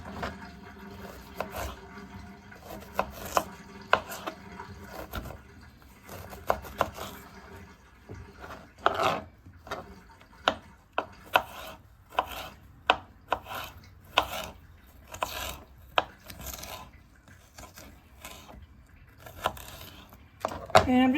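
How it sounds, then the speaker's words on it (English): A knife slices fresh ginger into long strips on a cutting board for salmon head fish soup, giving a string of crisp, irregular cuts. The taps are sparse at first, then come quicker and closer together, loud and near. "Okay, so now I'm going to slice this up."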